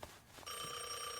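A telephone rings in a French-dubbed Devil May Cry anime episode, a bright sustained electronic ring starting partway through after a brief quiet stretch, steady and fairly close.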